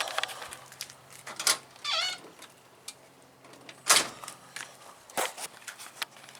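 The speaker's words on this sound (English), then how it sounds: "And a cat that wants to come out and play too." A few short meows and scattered light knocks or footsteps in a quiet indoor room, no talking.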